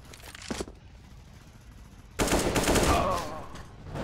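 Rapid automatic gunfire bursts out loudly in a Counter-Strike: Global Offensive match, a dense sustained volley following a brief quieter stretch with a single earlier shot.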